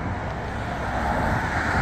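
A car passes along a roadside street, producing a steady broadband road rush that swells slightly toward the end, with no voices.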